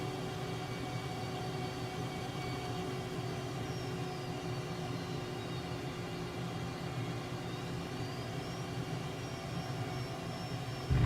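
An airplane sitting on the runway in a flight simulator game, a steady engine drone with a low rumble and a faint rising and falling whine, continuous and moderately quiet with no talk.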